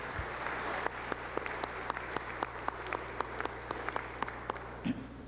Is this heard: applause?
yes